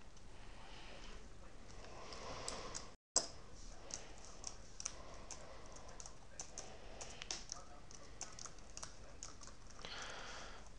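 Typing on a computer keyboard while entering a math function: steady rapid key clicks and taps at close range, continuing throughout with a brief silent gap near the start.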